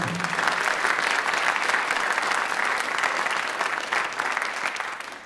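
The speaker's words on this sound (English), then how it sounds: "Can we get a round of applause?" Sustained applause from a crowd fills the whole stretch, steady and dense, tapering slightly toward the end.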